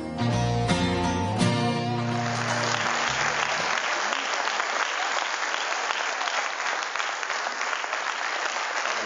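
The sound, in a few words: audience applause after film screening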